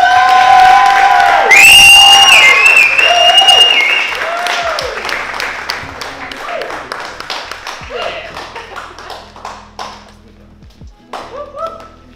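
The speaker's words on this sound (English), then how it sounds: "quick last round of applause for these people" Applause at a gathering for a five-year club, with loud cheering and whooping over scattered clapping that thins out after a few seconds, then sporadic claps and voices chattering near the end.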